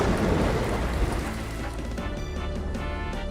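Steady heavy rain pours down with a deep rumble of thunder rolling underneath, loud and continuous throughout, with no voices.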